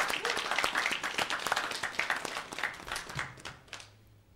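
Small audience at an IT panel event claps for the panelists, a close, uneven patter of individual hand claps that thins out and stops near the end.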